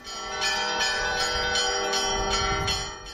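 Church bells ring on Sviyazhsk island, with bright, rich strikes repeating at an even pace and overlapping resonance that rings on continuously.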